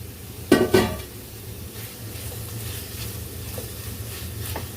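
Chopped tomatoes drop into a hot pan with a short, loud burst of sizzling and stirring near the start, then a steady soft frying hiss continues with occasional faint utensil taps, no voices.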